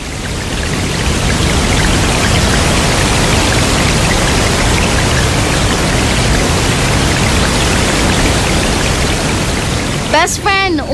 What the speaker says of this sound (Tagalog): Malakas ang ulan dahil may bagyo.